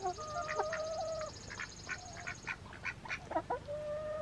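Chickens cluck and squawk in a pen, a rapid run of short, fairly faint calls with a few drawn-out tones, close but soft over steady background noise.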